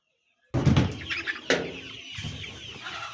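Chickens at a small farm, some affected by chronic respiratory disease, cluck and call close by after a silent start, with a sharp squawk partway through and a busy flock murmur continuing underneath.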